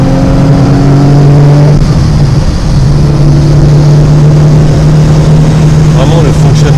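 A 1973 Porsche 911 2.4S sports car engine drones steadily while driving, a loud continuous hum with a slight rise in pitch, heard up close and alone.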